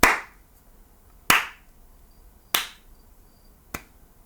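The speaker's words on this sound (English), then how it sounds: "Golf clap." Four slow, evenly spaced single hand claps, sharp and close, each ringing out briefly before the next, with quiet between them.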